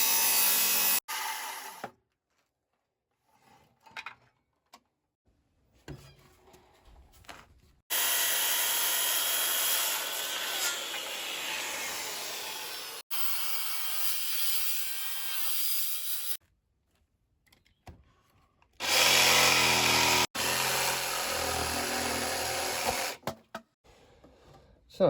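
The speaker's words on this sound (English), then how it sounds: "So we're going to cut this off." Wood is hand-sawn for a Viking chair seat in an outdoor woodworking project, with three long stretches of rasping strokes separated by quiet pauses and brief knocks.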